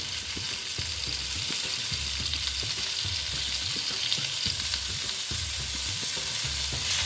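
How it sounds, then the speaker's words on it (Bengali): Pieces of pointed gourd (potol) fry steadily in a pan, a loud, unbroken sizzle with regular scraping strokes as they are stirred, no voices. "দেখো পটলগুলো আস্তে আস্তে আমি ভেজে নেব ভালো মতন"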